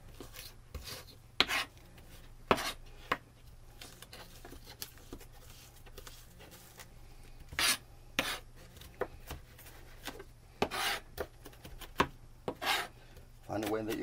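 A knife works through salted garlic on a cutting board, giving irregular close taps, scrapes and crushing thumps scattered across the span at a low level.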